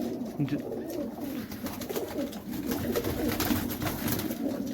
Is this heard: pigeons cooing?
yes